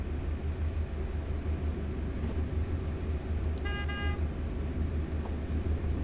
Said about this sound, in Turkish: Normal kornası bu şekilde. Havalı kornası bu şekilde bu aracın.